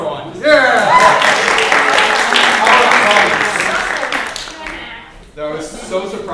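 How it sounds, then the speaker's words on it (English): An improv Dungeons & Dragons audience claps and cheers in a loud burst of applause, layered with excited voices and shouts that fade slightly toward the end. "there was more than one person clapping for healer number 4"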